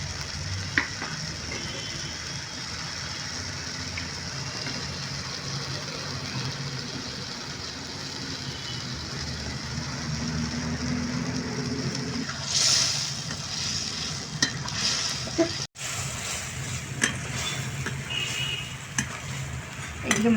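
Prawns stir-fried with spice paste in a pan, giving a continuous close sizzle with scraping stirs throughout and a few sharp clinks and a brief louder burst near the end.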